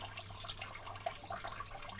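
Tap water running steadily while mumbar is washed under it, a faint continuous splashing trickle with small bubbling spatters, close by and quiet.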